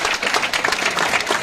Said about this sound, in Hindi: आसिम सर के लिए तालियां